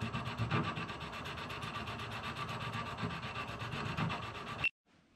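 An old aluminium block is worked by hand with a file, giving a steady, rhythmic rasping scrape, close and continuous, that stops abruptly near the end.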